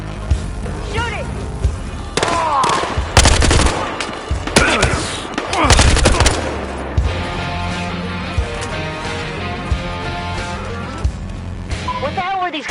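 Bursts of gunfire from the Battlefield: Hardline video game crack and echo between game music and effects, rapid shots clustered in loud volleys over the first half, then quieter action with a voice talking.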